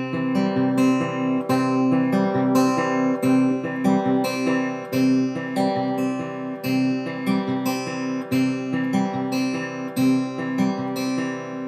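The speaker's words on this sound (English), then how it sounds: "step four is syncopating the middle finger again, so it sounds like this." A repeating fingerstyle guitar pattern on a guitar, its middle-finger notes syncopated off the beat, plucked in even, ringing cycles heard up close with no speech over it.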